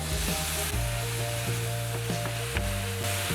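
Apples tipped into a hot pan of wilting cabbage, with a steady close sizzle and frying crackle throughout and a few sharp clatters as the fruit lands and is moved around.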